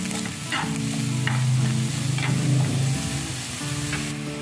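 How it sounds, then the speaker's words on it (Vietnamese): Mushrooms and carrots being stir-fried in a pan for a vegetarian dish, with a loud, steady sizzle close by and a utensil scraping and tossing in irregular strokes, with no talking. "Bạn sẽ đảo hoặc là đều nấm và cà rốt nha."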